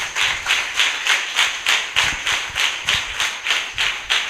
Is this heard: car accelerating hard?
no